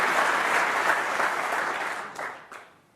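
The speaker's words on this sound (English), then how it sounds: "The applause for playing ball." Steady applause from the audience at a professional snooker match, dense and sustained, tapering off toward the end with a few last scattered claps.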